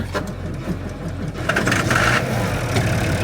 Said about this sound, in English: So start the tractor.